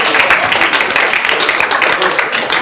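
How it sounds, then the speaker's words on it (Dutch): A studio audience applauds during a Flemish sitcom about a football club, FC De Kampioenen, with dense, sustained clapping that fills the whole stretch at a steady, fairly loud level. "Applaus!"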